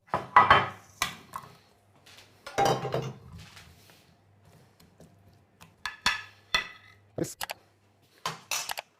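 A casserole dish clunks and scrapes as it goes into the oven, with several sharp knocks, rattles and a door thud spread out between quiet gaps.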